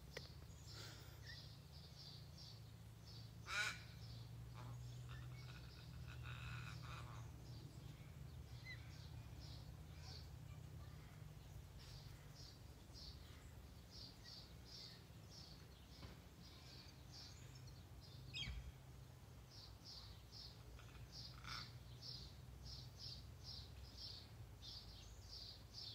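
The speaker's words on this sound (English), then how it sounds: "listen to the birds for a minute" Birds call outdoors, with faint, high chirps repeating throughout against a quiet low hum, and no one speaks.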